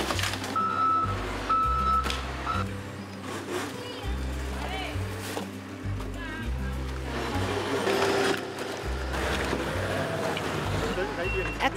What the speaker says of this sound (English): Excavators, payloaders, dump trucks,